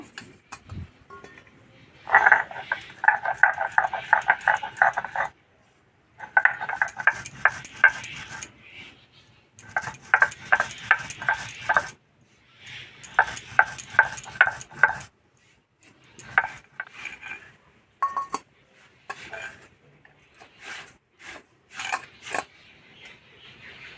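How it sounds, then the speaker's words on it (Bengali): Dry-roasted cumin seeds being ground by hand, bursts of rhythmic scraping and knocking strokes in separate short sessions with quiet pauses between them, close and fairly loud. "আমি ভাজা জিরেটা গুঁড়ো করে নেব।"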